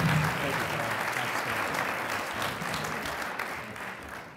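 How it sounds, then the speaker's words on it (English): Sustained applause from an audience at a university research lecture, a dense, steady clatter of clapping that holds for about four seconds and fades slightly at the end. "How about one more round before we give it back to the Vice President for Research?"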